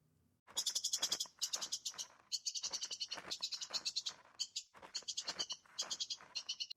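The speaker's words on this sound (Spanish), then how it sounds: "Paso sobre grava, pájaros lejanos, el aire del amanecer." Close, loud bursts of high, buzzy chirping trills repeat in quick rhythmic phrases, with brief gaps between them.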